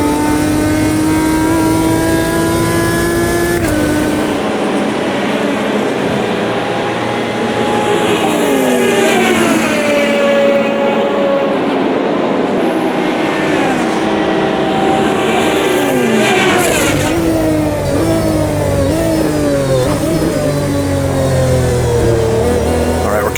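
GT1 race car engine from 2005 in Automobilista 2 at Spa, a loud sustained roar rising and falling through gear shifts and revs, with a brief lift near the middle, while a person talks over it.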